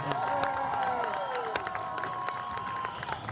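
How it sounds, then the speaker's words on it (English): A crowd at a lumberjack show at the Puyallup Spring Fair claps and cheers loudly for speed climbers, with scattered whoops and shouts over steady applause that tapers slightly toward the end. "How about a round of applause for our speed climbers?"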